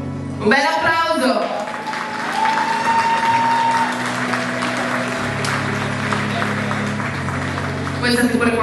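Audience applause at the Miss Ciclismo beauty contest pre-final, a sustained crowd of clapping heard under music and an announcer's voice, swelling slightly near the end.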